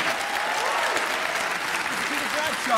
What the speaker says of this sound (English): keep on applauding for Mr.